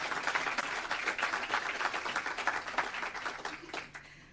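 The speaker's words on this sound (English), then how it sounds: "Round of applause, please." An audience claps at the launch of the Road Accident Fund customer relations contact centre, a fairly soft, distant patter of many hands that stays steady for several seconds, then thins toward the end.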